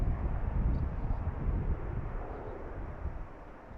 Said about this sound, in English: I think it was a MAX 8, if I remember correctly. Landing on runway 32. Can you hear the reverse thrusters at all?